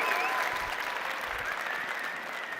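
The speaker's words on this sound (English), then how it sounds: "Get a round of applause." Dense audience applause at a startup conference stage, sustained and even from start to finish with no voices over it.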